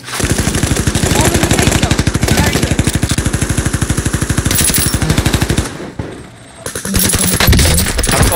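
Sustained rapid automatic gunfire from an online shooter match fires in long, loud, evenly spaced bursts, breaking off briefly near the end before another burst resumes.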